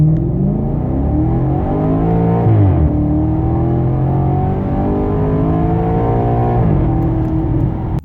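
A Maserati GranTurismo 4.2 V8 accelerating hard from a standstill, the engine note climbing loudly through the revs, dropping briefly at a gear change near three seconds, then rising again and shifting once more near the end.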